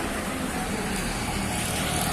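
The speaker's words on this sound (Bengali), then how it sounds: "এটা ঢাকা নারায়ণগঞ্জ হাইওয়ে।" Road traffic streams past on the Dhaka-Narayanganj highway as a steady broadband roar of cars and heavier vehicles that holds even throughout.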